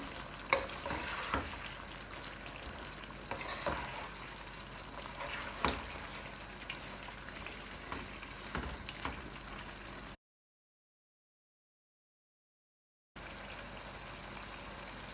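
Chicken tikka karahi fries in a pan as sliced ginger and coriander are stirred in, a steady sizzle with irregular spoon scrapes and knocks, then a few seconds of silence before the frying resumes.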